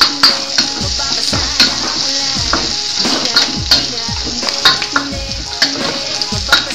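Onions sizzle loudly frying in a hot pan while a utensil stirs and scrapes repeatedly in an uneven rhythm.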